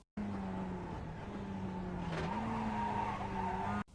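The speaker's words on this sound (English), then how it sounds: "Be aggressive on the brakes and decelerate towards the apex." A Mazda MX-5 braking hard at Oulton Park in iRacing: a steady engine tone under loud tire skidding that carries on throughout, then cuts off abruptly.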